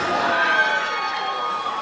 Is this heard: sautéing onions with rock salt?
no